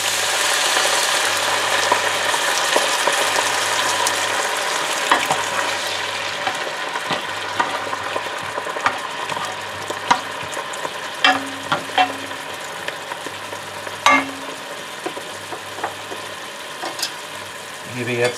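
A pan of tomato paste for braised beef brisket being deglazed with stock: a loud, dense hiss that fades into a steadier sizzle, with scattered clicks and scraping of a utensil over about eighteen seconds.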